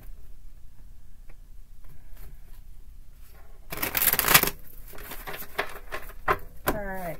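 A tarot deck is quickly shuffled by hand, a brief dense riffle of flapping card noise in the middle, followed by a few lighter card taps and handling sounds, with faint speech nearby.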